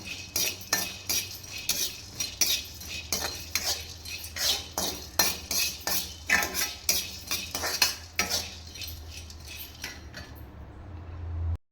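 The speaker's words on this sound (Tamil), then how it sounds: "பருப்பும் இந்த மாதிரி நல்லா கொஞ்சம் ப்ரௌன் கலர் வர வரைக்கும் நல்லா வறுக்கணும்" Black urad dal dry roasting in a pan while a spoon stirs it in a quick, regular run of metallic clinks and scrapes, close and fairly soft, with a brief quiet at the end.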